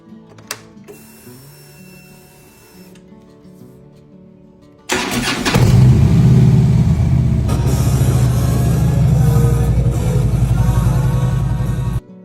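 A 2014 Harley-Davidson Street Glide touring motorcycle starts after a few faint clicks and quiet mechanical sounds, then settles into a loud, steady, close-up idle rumble that runs to the end.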